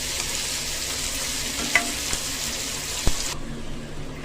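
Onions browning in a pan with curry leaves and mint fry in a continuous close hiss, marked by a couple of sharp clinks of a spoon against the pan before the sizzle cuts off near the end.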